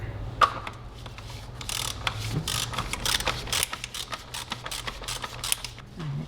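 A ratchet loosens a size 24 cap on a Grand Caravan 3.6 V6 during an oil pan job, producing bursts of close, crisp clicking strokes with brief pauses between them.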